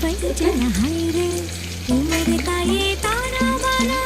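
Whole mace, cardamom, cinnamon and cloves frying in hot oil, a steady close sizzle with sharp crackling bursts, while a clear voice talks over it throughout.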